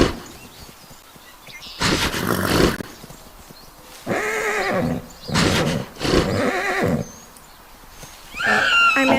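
Several horses neigh and whinny in the Roblox survival game Ecos La Brea, in four or five loud, separate bursts with quiet gaps between them and a higher call at the end.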